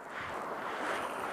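The swift current of the Deschutes River rushes as a steady, broad wash of moving water with some wind noise, faint and continuous, with no voices.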